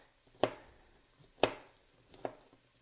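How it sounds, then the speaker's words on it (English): Three distinct knife chops cut through a bell pepper on a cutting board in a home kitchen, each a sharp, close thud spaced about a second apart, the last one lighter, with no talking. "let's get this last pepper done, and this is the last of the chopping that I have to do."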